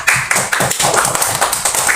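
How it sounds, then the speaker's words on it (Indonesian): Classroom students clapping together for a classmate, a close, fairly loud, rhythmic run of hand claps in steady unison. "tepuk tangan yang meriah buat temannya"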